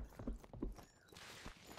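Hooves clip-clop in a quick, uneven run as a horse bolts away in the video game Myth of Empires, heavy thuds near the start fading into a softer, more distant patter.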